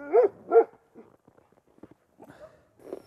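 A tall six-year-old female Yakut hunting laika, a working dog, lets out two sharp, close barks, followed by a few faint whimpers and yips in a quiet setting.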